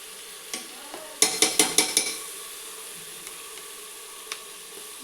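Ginger-garlic paste is stirred into reddish fried onions in a pan, with a quick run of five sharp metallic scrapes and taps over a gentle sizzle, a few isolated clicks before and after, and no talk.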